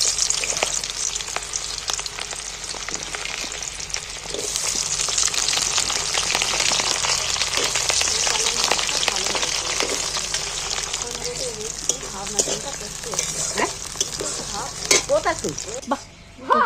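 Chopped onions fry in hot oil with whole cumin and dried chilies for a home-style chicken curry, giving a loud, steady, close-up sizzle with scattered stirring clicks throughout.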